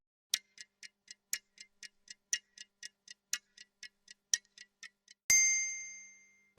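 Clock ticking steadily as a countdown timer effect, about twenty crisp, close ticks with a louder accent every few beats, ending in a bright ringing ding that decays slowly; no talk.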